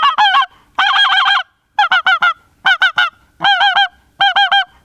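A Pinkfoot Hammer goose call blown in quick rhythmic bursts, loud, close honking notes in clipped clusters with short pauses between, imitating pink-footed geese.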